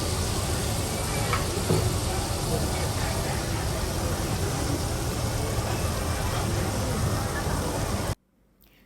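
Loud, steady sizzling of seafood stir-fried with curry powder on a hot pan in a Chinese restaurant, continuous for several seconds before cutting off abruptly.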